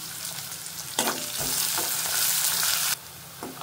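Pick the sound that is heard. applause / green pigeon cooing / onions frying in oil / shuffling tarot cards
onions frying in oil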